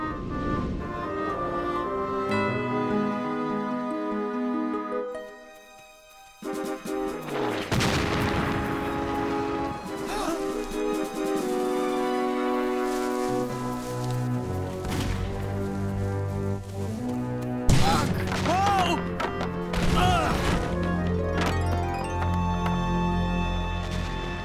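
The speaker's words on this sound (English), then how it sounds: "Cannon! And they're close." Cannon fire close by during the Revolutionary War-era Hessian advance, heavy booming blasts and rumbling bursts sounding over dramatic orchestral music for much of the stretch, with a louder impact later on.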